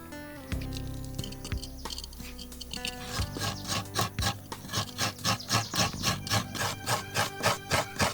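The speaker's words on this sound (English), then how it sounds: "Now she's getting ready to scrape coconut." Fresh coconut being scraped by hand, a rapid, steady series of rasping strokes that start sparse and settle into a regular rhythm, close and fairly quiet.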